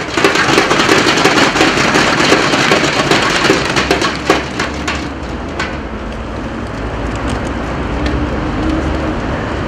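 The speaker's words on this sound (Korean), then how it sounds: "박수 부탁드립니다." Applause from union members filling a hall at a general assembly, a dense sustained clatter of clapping that is loud at first, thins after a few seconds and carries on as a softer steady patter.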